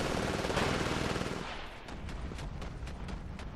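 Machine-gun fire in Titanfall hits the player in a dense, loud rattling burst, then thins into a run of sharp, evenly spaced shots that carry on at a steadier, slightly lower level.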